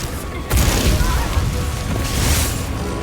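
A heavy explosion from the arch-tempered Rey Dau in the game Monster Hunter Wilds erupts as a sudden loud boom that rolls on as a sustained roaring blast for several seconds.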